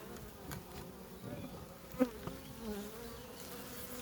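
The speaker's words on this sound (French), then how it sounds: "on a un gros essaim qui est venu s'installer" Large swarm of honey bees settled in a trap hive, a soft continuous buzzing hum with individual bees flying close past, one brief louder buzz, fairly faint overall.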